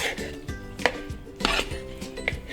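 A spoon stirring fruit yogurt in a bowl makes repeated close clinks and scrapes against the bowl in an uneven rhythm, about five or six distinct knocks within a couple of seconds.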